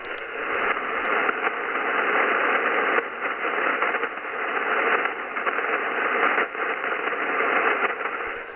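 A radio receiver hissing with steady atmospheric static and noise, a dense, even wash with faint crackles, continuous and alone.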